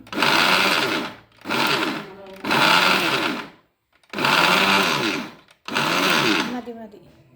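A mixer grinder whirs loudly in five separate pulses of roughly a second each, grinding dry neem flower chutney powder with salt, with brief silences between the bursts.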